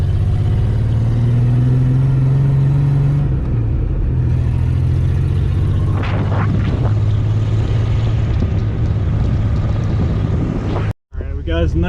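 A Ford Bronco engine drones as the truck drives off-road, a loud steady low hum that shifts in pitch partway through, with rattling bumps and a brief cut near the end.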